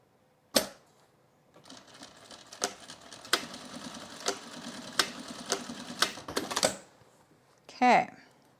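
A sewing machine stitches men's jeans in short bursts, its rapid mechanical clatter starting and stopping several times amid sharp clicks and handling noises, fairly quiet and close.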